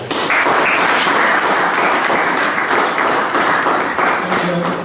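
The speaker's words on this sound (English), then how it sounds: "I think he deserves a round of applause." Steady applause from a Toastmasters club audience honoring its founder president, thick continuous clapping with a few heavier taps and thuds mixed in, loud and close for the full stretch.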